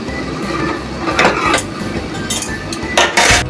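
A metal lid clanks down onto a cooking pot holding native chicken and new potatoes, giving a few sharp, close clinks and rattles over a low background hum.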